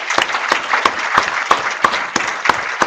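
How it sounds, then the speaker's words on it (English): A room of attendees at a planetary science meeting applauds the students standing for the poster awards. The clapping is loud and close, with rhythmic individual claps audible within the sustained applause. "Give them a round of applause."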